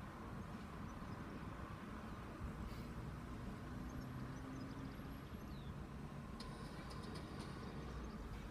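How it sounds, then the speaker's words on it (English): An East Midlands train at Grantham station gives off a faint, steady rumble of rail noise at a distance, with no one speaking over it. "the train might leave any minute now"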